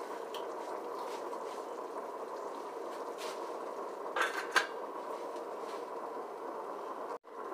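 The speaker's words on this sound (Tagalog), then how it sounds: "Sinisimmer ko lang siya sa low heat." Chicken with brown sugar simmering covered in a pan over low heat, a steady soft bubbling hiss with a couple of faint clinks of utensils against the pan, close and unbroken, no voices.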